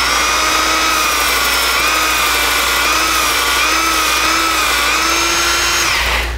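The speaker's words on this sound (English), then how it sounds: "I'm gonna clean the belt here and kinda get this belt a little cleaner" A steady, loud belt sander whine runs throughout with a slight wavering pitch as the belt is cleaned with a rubber sanding belt cleaner, cutting off abruptly near the end.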